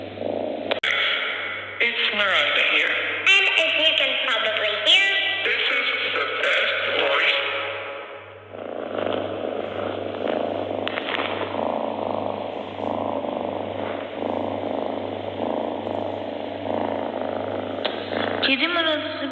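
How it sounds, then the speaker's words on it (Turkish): A cat purrs steadily and close up, a continuous low rumbling throb that runs the whole time with faint sounds layered over it. "şu an kedinin mırıltısını dinliyoruz"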